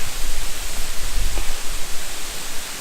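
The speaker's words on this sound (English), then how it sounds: "We're underneath the waterfall." Manoa Falls on Oahu heard from directly beneath: a close, constant hiss and rush of falling water with low rumbling gusts, loud and continuous with no voices.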